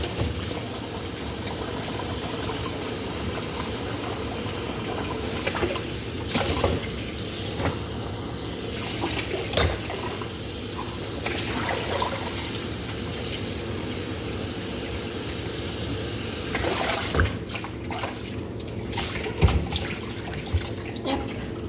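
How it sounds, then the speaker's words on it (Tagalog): A large fish is washed under a running tap before grilling, giving a steady splash and hiss of water that lasts the whole time, with scattered knocks and clunks of handling and no one talking. "Hugasan ko itong isda kaya yan."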